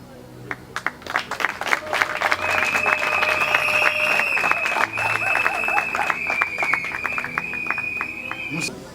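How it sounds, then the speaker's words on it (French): An audience applauds at an official launch event, sustained dense clapping and cheering for several seconds, with a steady high tone sounding over the applause. "Et je vous demande d'acclamer."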